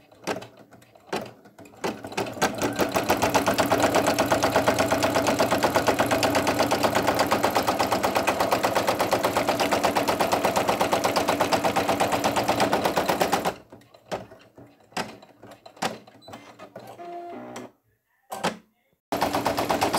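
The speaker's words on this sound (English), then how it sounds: "we're just doing the satin stitch, or the zigzag part of the satin stitch" Brother single-needle sewing machine running a zigzag satin stitch on minky fabric, a loud steady rapid mechanical chatter for about eleven seconds, then short stop-start bursts and handling clicks.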